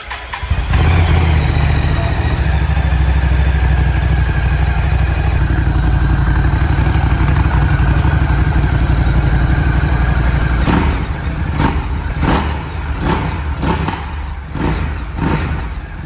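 A Triumph Scrambler 1100 motorcycle engine fires up and idles loudly and steadily up close, then several sharp throttle blips rev it in quick succession near the end.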